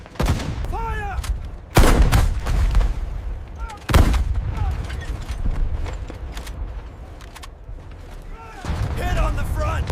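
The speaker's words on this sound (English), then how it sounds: "Prepare the anti-tank gun." An anti-tank gun fires in a World War II battle scene on Iwo Jima, two heavy booming blasts a couple of seconds apart over rumbling combat noise, with voices speaking between shots.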